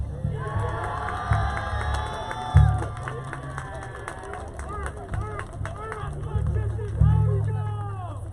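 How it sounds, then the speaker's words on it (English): A crowd cheers for the 2023 homecoming king at a Central Penn College men's soccer game against Penn State Schuylkill, with loud whoops, shouts and high-pitched yells over a lively background of crowd chatter and some clapping. "One more round of applause."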